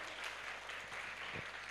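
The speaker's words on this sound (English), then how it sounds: "Please get applause for Sathya." Applause from a workshop audience thanking a presenter, a steady dense wash of clapping throughout that stays fairly quiet and even, heard from within the room with no talk over it.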